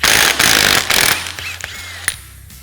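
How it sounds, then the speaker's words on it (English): A power tool with a 30mm socket removing a recessed nut on a Can-Am Commander's A-arm, loud rattling impact bursts in the first second, then quieter clicks and winding down, close by. "Now we're going to take a 30mm socket and remove our recessed nut."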